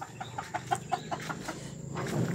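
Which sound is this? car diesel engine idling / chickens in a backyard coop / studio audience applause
chickens in a backyard coop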